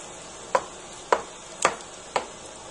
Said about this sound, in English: And then you stir all this up.